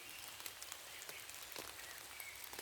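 Rain falling on a tent pitched for a back garden camp, a steady soft patter across the fabric with frequent sharper drop taps, fairly faint and continuous throughout.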